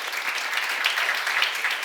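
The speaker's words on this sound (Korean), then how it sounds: "박수 하세요" Church congregation applauding together at a seminar, a steady, dense wash of clapping from many hands filling the room without pause.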